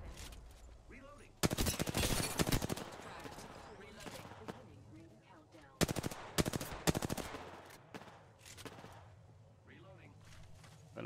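Rapid automatic gunfire rattles in bursts in the video game Apex Legends, loud and sharp, with two heavy volleys and scattered shots between them. A player talks quietly under it.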